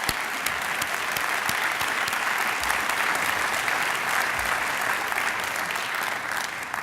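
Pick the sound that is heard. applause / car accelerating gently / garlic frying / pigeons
applause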